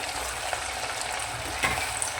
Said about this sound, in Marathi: तेल गरम झालं आहे आपण लगेचच हा नाश्ता सोडून घेऊ आणि कढईमध्ये जेवढे मावतील तेवढे सोडायचे आहेत